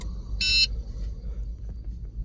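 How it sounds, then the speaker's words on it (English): A single short electronic beep from a key fob programmer on a 2016-2020 Honda HR-V, signalling successful programming, clear and nearby, over a low steady background hum. "hear the beeping sound indicating programming is successful."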